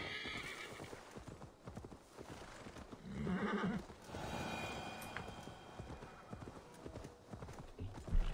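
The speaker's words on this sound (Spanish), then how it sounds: "Es Dios, nuestro caballo." Horse hooves clip-clop steadily in a medieval-style video game, with a clear whinnying neigh midway, moderately close amid game ambience.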